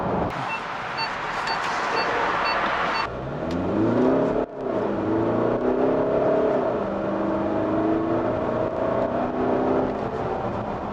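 A Volkswagen Tiguan diesel with a DSG gearbox accelerates hard in sport mode, heard from inside the cabin. The engine drone climbs steadily in pitch, dips briefly at a gearshift, then rises again under road and wind noise.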